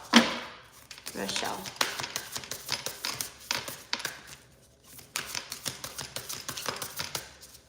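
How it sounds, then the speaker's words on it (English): A deck of trading cards being shuffled by hand, giving bursts of rapid papery riffling and tapping that stop and start again, close and moderately loud. "This deck is always like really hard for me to shuffle."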